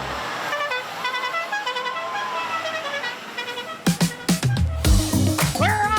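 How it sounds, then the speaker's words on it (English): A monster truck's horn blares in repeated tooting bursts over a steady engine drone, then the engine roars louder and rougher in uneven surges toward the end, close and loud. "Oh, so an actual monster truck."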